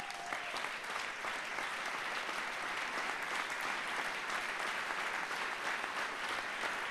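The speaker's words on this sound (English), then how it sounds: "could we just stand and can we give you a round of applause?" A room full of audience members applauding at a community event, a dense, even wash of clapping held at moderate volume from a slight distance for the whole stretch.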